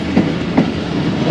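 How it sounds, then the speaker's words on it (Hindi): Khyber Mail passenger train rolling along the main line in Punjab after a short stop at Raiwind, with steady rumble and three soft rhythmic wheel knocks over the rails, alone without talk. "रायवंड पर मुख्तसर सा स्टॉप करने के बाद ट्रेन रवाना हो गई।"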